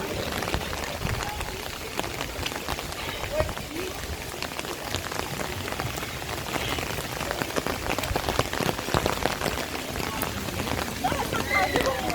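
Steady rain falling in a high, foggy forested area, a dense even patter on leaves and surfaces filling the whole stretch, with a voice talking over it.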